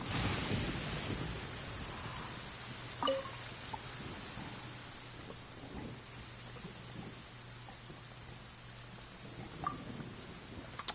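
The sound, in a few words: rain and thunder in video game Genshin Impact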